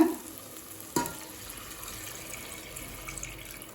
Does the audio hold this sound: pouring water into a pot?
yes